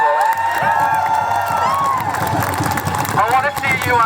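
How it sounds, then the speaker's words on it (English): Protest crowd at a trans pride rally cheering, whooping and applauding loudly and continuously, a dense roar of voices and clapping close around. "Give yourself a round of applause."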